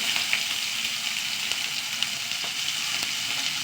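Sliced shallots and dried red chillies fry in hot oil, a steady close sizzle with faint crackles and pops running throughout, no voices.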